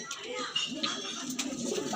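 A Punjabi female pigeon gives soft, low, repeated coos close by while people talk in the background.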